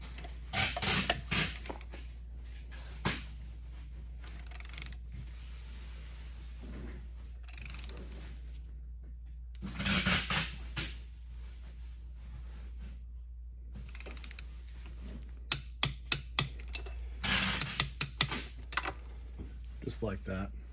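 Torque wrench ratcheting as cylinder head bolts are tightened on a Honda XR650L engine, with short bursts of metallic clicks in a quiet workshop and someone talking between them.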